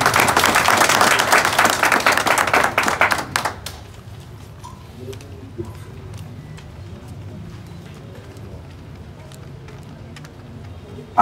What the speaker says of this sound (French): Et on l'applaudit encore.